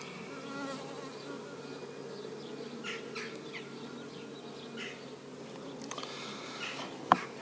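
Honey bees buzz around a top bar hive outdoors, a steady low hum of many insects close by, with a few brief louder passes and a sharp click near the end.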